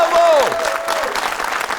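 Audience applause after a children's stage performance, starting under a voice with a sweeping tone at first and then continuing as even, moderately loud clapping.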